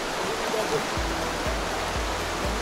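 Mountain river in Abkhazia rushing beside a footpath, a continuous broad wash of flowing water heard close, with a few soft thumps that sound like footsteps.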